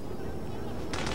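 Gunfire in the PS2 co-op game Black Hawk Down plays as loud, dense shots, with a sharp burst near the end of the short stretch.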